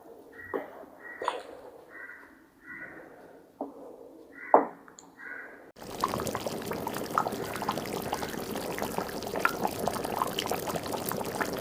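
Soft tapping and clinks give way to a sudden sustained rushing pour, as rice tumbles into boiling water for chicken biryani with a steady hiss.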